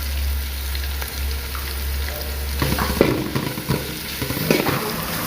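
Onions and green chilies frying in a pan for chicken noodles give a steady close sizzle, joined in the second half by bursts of stirring and scraping.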